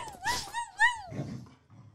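A new pet dog makes a short excited run of vocal sounds, rising whines and yips ending in a low rumbling growl, close and fairly loud, with no talking over it.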